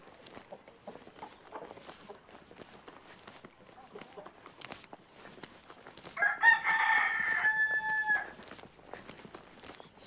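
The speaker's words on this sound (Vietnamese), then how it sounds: "trên này mọi người nuôi nhiều gà lắm các bạn" A rooster in a mountain village of northwestern Vietnam, where villagers raise many chickens, lets out one loud, drawn-out crow that lasts about two seconds midway through. Faint scattered clucks and soft ambient rustling come before and after it.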